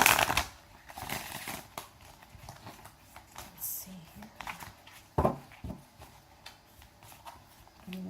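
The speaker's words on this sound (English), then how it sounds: "These cards are really hard for me to shuffle because my hands are so small" A tarot deck is shuffled by hand at close range, giving irregular bursts of riffling and soft card taps with pauses between them, and a voice is faintly audible at times.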